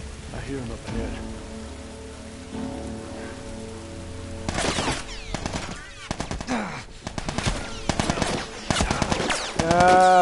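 Gunfire in The Last of Us Remastered: after a stretch of steady rain-like ambience, loud bursts of rapid shots and sharp cracks begin about midway and keep building to the end.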